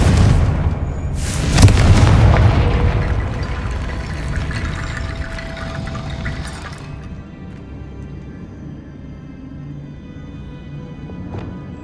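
A Confringo blasting-curse explosion in Hogwarts Legacy, a loud booming burst with a shattering crack that fades into a long rumbling, crackling tail, close and alone.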